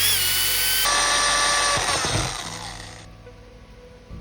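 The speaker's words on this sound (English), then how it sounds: "Here is a close-up of the 3-in-1 drill tap and countersink." A power drill with a 3-in-1 drill tap and countersink bit whines loudly as it bores into aluminum, then winds down and slows to a stop.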